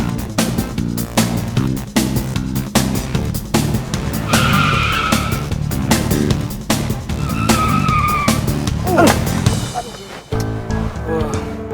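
A car braking hard with its tires skidding and squealing, loud and close, the long screech rising and repeating over engine noise and music.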